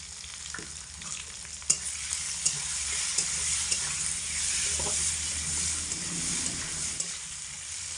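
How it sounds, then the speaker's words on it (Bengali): Carambola fries in oil for a pickle, giving a constant bright sizzling hiss with occasional soft clicks and pops from stirring, close and steady throughout, with no voices. "তেলের মধ্যে রেখে কামরাঙা চার থেকে পাঁচ মিনিট সময় ধরে মিডিয়াম আছে ভেজে নিতে হবে"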